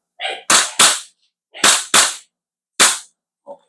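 An HK416 airsoft rifle fires single shots: six sharp, loud cracks in uneven pairs and singles, separated by brief silences, with small mechanical clicks at the start and end.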